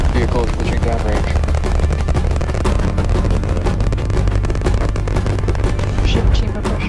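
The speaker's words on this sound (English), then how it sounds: "Flight directors, go for launch. We have liftoff." SpaceX rocket liftoff, a loud dense crackling roar with rapid popping bursts and heavy low rumble sustained throughout, with voices speaking over it.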